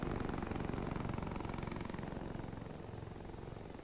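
A helicopter in the video game Arma 3 thrums with a fast, steady rotor chop, a continuous moderately loud pulsing drone with no talk over it.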